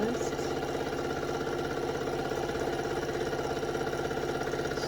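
A sewing machine stitches a skirt seam, running steadily with a continuous fast mechanical whir and rhythmic pulsing throughout, close and fairly loud.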